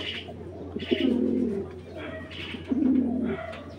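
Tournament Giribaz pigeons, an army pair, coo nearby in several soft, rolling phrases with short pauses between them.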